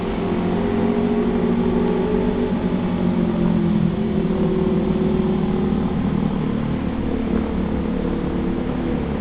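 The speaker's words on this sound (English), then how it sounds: "Got some motorbikes coming across." Engines of motorbikes droning steadily in the distance near the Sea Cliff Bridge at Clifton, a continuous low rumble that holds without a clear pass-by peak.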